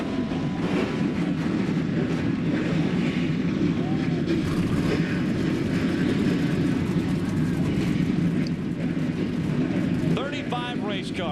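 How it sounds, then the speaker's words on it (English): Several ARCA race car engines rumble to life at once at Toledo Speedway, Ohio, a loud sustained roar with voices talking faintly underneath. "Race cars coming to life here at Toledo Speedway in Toledo, Ohio"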